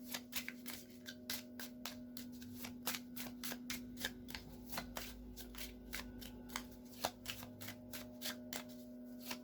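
Oracle cards are shuffled and drawn by hand in a quiet room, a close, soft run of crisp, rapid flicks and slaps in an irregular rhythm with no voices.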